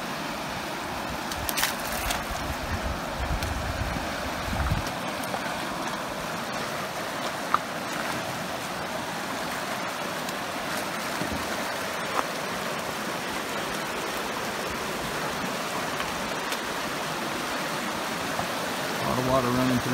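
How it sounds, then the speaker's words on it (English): Water rushing through river rapids on a canoe run on the Allagash, a steady, loud, close broadband roar of churning current that continues throughout. "A lot of water running through here."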